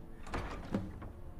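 A heavy door creaks open in Skyrim, a short wooden scrape and thud lasting about a second, fairly close and moderately loud over the game's ambient background.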